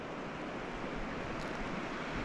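The muddy, high-running Tesla River rushes steadily in a broad, constant wash of flowing water, loud and close, with some wind noise and no talk.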